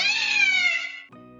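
A cat lets out a long, clear, high-pitched meow that falls away, followed by a brief softer second call, close and loud with no other sounds.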